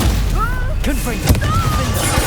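A Confringo fire spell blasts out in Hogwarts Legacy combat, a sharp booming impact midway amid clashing spell effects, whooshes and shouted voices throughout.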